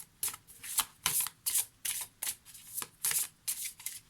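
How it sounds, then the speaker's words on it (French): A deck of tarot cards is riffled and shuffled close up in quick repeated bursts, each a crisp fluttering rush followed by a short pause, in a quiet room with no talking. "Il veut me regarder en train de battre mes cartes."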